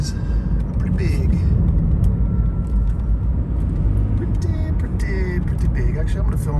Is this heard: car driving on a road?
yes